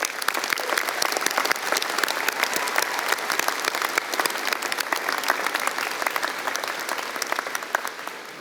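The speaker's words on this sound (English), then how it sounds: "Let's give them a round of applause." Sustained applause from a convocation audience at a health and social development graduation ceremony, dense and steady for the whole stretch, loud and close with no speech over it.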